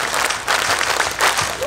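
Group hand clapping in a Japanese ceremonial tejime at an outdoor mikoshi shrine festival in Taipei, made up of short, loud, close bursts of many hands clapping in unison, separated by brief pauses.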